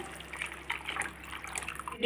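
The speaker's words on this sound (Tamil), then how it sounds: "நான் கர நூறு கிராம் புளி கரைச்சி வச்சுருக்கேன் ரெண்டு கிலோ மீனுக்கு நான் அந்த தண்ணியை ஊற்றுறேன்" Tamarind water is poured into a pot of simmering fish curry masala, giving quiet, brief splashy pours and trickles set against a faint background.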